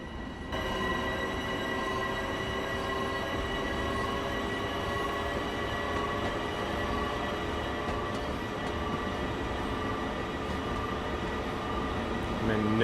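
Long Island Rail Road passenger train in Train Sim World 2020 running along the track, a steady rolling rumble with a sustained tonal whine, continuous and moderately loud throughout.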